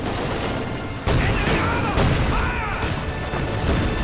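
Mortar and battle fire in Company of Heroes 2, a 3v3 Wehrmacht versus Soviets match: sharp loud blasts land about every second over a dense, rumbling wash of combat noise.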